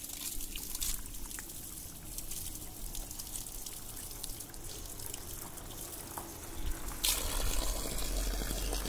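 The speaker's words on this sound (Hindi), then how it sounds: "फिलहाल तो ट्रैकिंग से पहले पानी पी लेते हैं हम लोग।" Water running steadily from a spring tap at a trailside stop before a trek near a waterfall in Mukteshwar, Uttarakhand, a close continuous splash and trickle that grows slightly louder and fuller toward the end.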